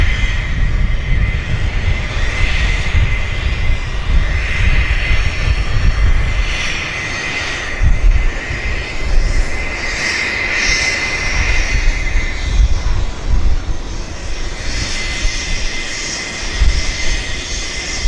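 An Air Canada A330 jet bound for Montreal roars steadily at Vancouver Airport, a loud, continuous engine rumble with a broad whine that swells and eases slightly over the span, with no voices.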